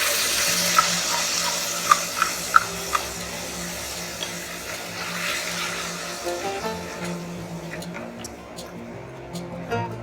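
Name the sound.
tomato puree poured into pan with ginger garlic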